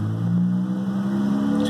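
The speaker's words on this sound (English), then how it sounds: "you want to get in the car and actually rev it to about" Car engine revved and held at around 2000 rpm while bleeding air from the cooling system, a steady low hum heard close and alone.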